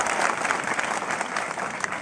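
Clapping fills the hall at a scholarship distribution and career guidance camp, a brisk, dense round of applause from the crowd that stays even and fairly loud across the short stretch.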